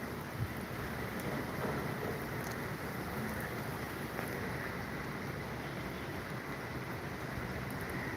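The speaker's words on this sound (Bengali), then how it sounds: "বৃষ্টি পড়ছে।" Steady rain pours down under dark, heavy clouds, a dense, even hiss that stays constant throughout with no breaks, close and fairly loud, with no voices.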